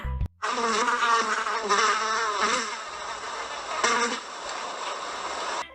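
A housefly buzzes steadily and close by, a wavering drone that rises and dips in pitch for several seconds with no other sound.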